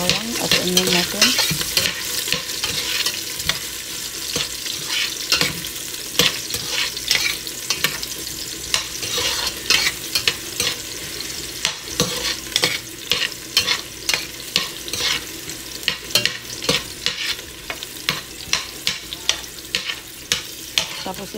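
Garlic and onion sauté in a pan for spare ribs with beer, a steady close sizzle broken by frequent scraping stirs and clinks of the spatula, with no one talking.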